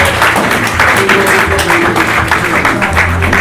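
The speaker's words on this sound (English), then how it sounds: "Warm round of applause for Joseph Larkin" A comedy club audience applauds a comedian. The clapping is loud and continuous, a dense crowd wash that holds steady for a few seconds with music or low hum underneath.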